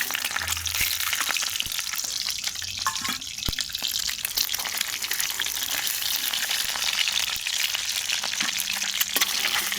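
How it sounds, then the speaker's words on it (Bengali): Cauliflower florets fry in hot oil, one by one, producing a dense, continuous sizzle with crisp popping crackles and a few stirring clinks, close up and without speech. "আমি ফুলকপিগুলো আমি সব এক এক করে লাল করে ভাজবো"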